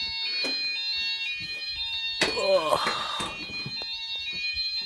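A fire alarm sounds steadily and loudly through a test of a multi-sensor detector, its tone continuing throughout while a person talks briefly over it.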